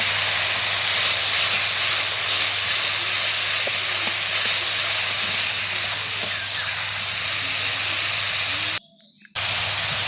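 Vegetables tipped into hot oil tempered with black cumin and stirred give a loud, steady sizzle and hiss that runs without a break, with a brief dropout near the end and no talking.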